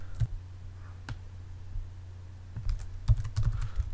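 Keystrokes on a computer keyboard while renaming a folder, arriving as a few scattered taps early on and then a denser cluster of quick clicks near the end, close and fairly quiet with no talking.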